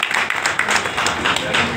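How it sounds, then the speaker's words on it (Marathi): A crowd at a political party office inauguration in Nanded applauds loudly, a dense, continuous burst of clapping that stays strong and close throughout. "जोरदार टाळ्या वाजवा."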